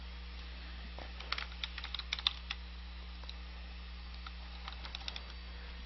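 A league name being typed on a computer keyboard, heard as bursts of close, light key clicks in quick irregular runs over a low electrical hum.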